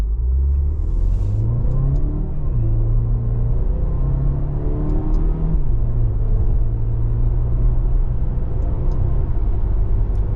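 2024 Dodge Hornet R/T accelerating in manual mode with paddle shifts, engine pitch climbing and dropping through several gear changes over a steady close rumble of road and cabin noise.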